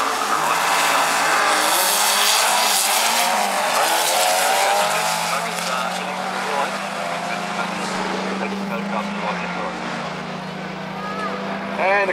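A Volkswagen drag car at the 2012 VW Showdown runs the strip in 10.65 seconds at 136 mph, its engine roaring loud and close. The harsh, sustained blast stays strong throughout, with a commentator talking over it.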